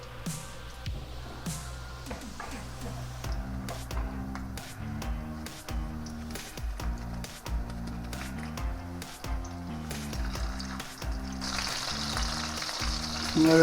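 Chicken burger patties fry steadily in a pan, a continuous sizzle that runs the whole time beneath a layer of tonal background music, growing brighter and louder toward the end.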